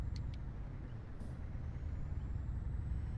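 A Scania truck in Euro Truck Simulator 2 idles with a deep, constant engine rumble, and a short air-brake hiss cuts in once near the middle before the low drone carries on alone.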